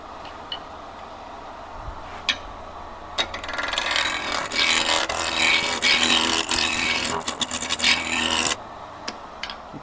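Roughing cuts on an English walnut blank spinning at 1,200 RPM on a wood lathe, a loud sustained rasping scrape with a few brief ticks at the start and end.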